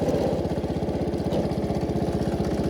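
A John Deere 110 lawn tractor engine runs steadily nearby with a rapid, even chugging pulse while the clutch keeps trying to engage, loud and continuous with no talk.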